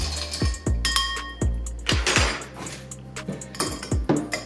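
A boozy Old Fashioned is stirred with ice in a glass, the spoon clinking and knocking against the ice and glass in a loud, fairly regular rhythm, close by and without speech.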